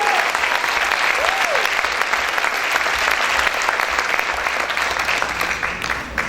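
Loud, sustained applause fills a church as the congregation claps steadily in a thick, even roar, with a voice faintly audible beneath it.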